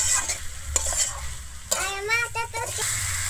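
Young jackfruit and potatoes are mixed with salt in a hot pan for a Bengali vegetarian curry, with close spatula scrapes over a constant sizzle and a voice speaking partway through.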